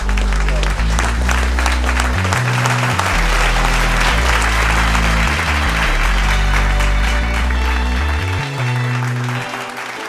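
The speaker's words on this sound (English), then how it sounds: "I want you guys to give a hand to 2Fat2Fly" A live studio audience at a Columbia, South Carolina talk show applauds: dense, loud, sustained clapping with a low musical bed underneath, fading slightly at the end.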